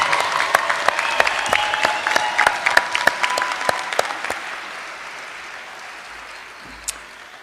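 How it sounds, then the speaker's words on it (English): Audience applause at the 2019 Cape Fear Community College commencement ceremony, with dense clapping from a large crowd that swells briefly and then thins out and fades, ending with a lone clap. "Let's give these graduates a round of applause."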